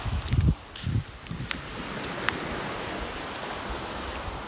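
Soft, steady wash of sea waves at a beach, a faint continuous surf hiss after a few brief rustling thumps near the microphone.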